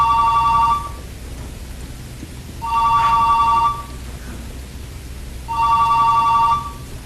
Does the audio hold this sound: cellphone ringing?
yes